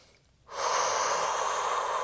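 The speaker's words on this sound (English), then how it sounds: "Take a few more of those breaths." A long, forceful exhale through the mouth during a Pilates workout, a steady breathy rush that starts abruptly after a quiet moment and holds close and loud to the end.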